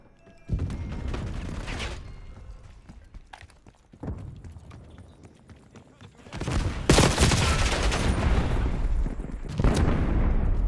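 Bursts of gunfire crack through a Black Ops 6 match, loud and dense in the second half with sharp impacts and blasts, as a frag grenade is thrown mid-firefight; a player's voice is heard over the action.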